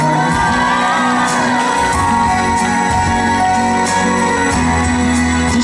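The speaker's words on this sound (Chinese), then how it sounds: "给自己一个掌声加尖叫声" An audience at an outdoor year-end charity gala concert in Shengang shouts and whoops loudly over ongoing stage music, with scattered cheers rising and falling throughout.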